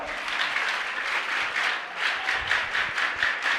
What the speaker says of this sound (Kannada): ಶಂಕರಣ್ಣಂಗೊಂದು ಜೋರಾದ ಚಪ್ಪಾಳೆ ತಟ್ರಪ್ಪ ಎಲ್ಲಾರು